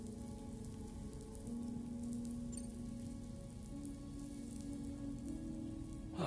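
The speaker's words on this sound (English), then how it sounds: "I like how you can see the rain on the screen." Steady rain in the video game Death Stranding 2 hisses across the whole stretch at a moderate level, with a low hum underneath and no voices.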